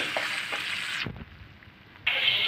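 Chicken pieces for a desi chicken bhuna fry in hot oil with a loud, steady sizzle. It drops away for about a second and then bursts back up, close by.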